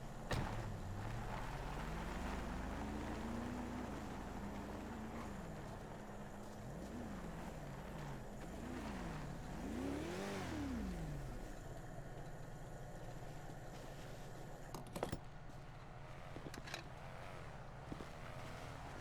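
A car engine in the OCRP roleplay game drones steadily and rises and falls in pitch as the car is moved and revved, with a few sharp clicks near the end.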